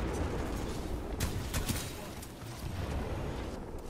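Rapid bursts of Spitfire light machine gun fire in the shooter Titanfall 2, sharp cracks clustered in quick volleys over a busy, noisy in-game background, close and fairly loud.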